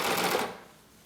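A Baby Lock Evolution serger stitches sheer tricot in a quick, soft whirring burst that trails off within a second, faint and alone.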